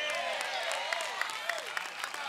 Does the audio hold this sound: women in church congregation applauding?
yes